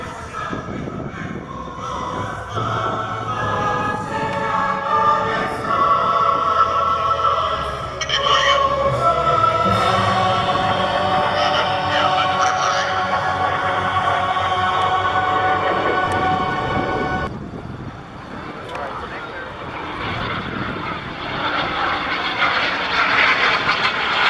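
A 75% scale replica jet flies low and slow at an airshow, its engine roaring loud and sustained with a rising rumble as the afterburner lights, then fading into a broad whoosh; voices talk faintly underneath.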